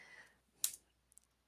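Single sharp mouse click in a game design program, faint and crisp in a quiet room, followed by a few tiny ticks.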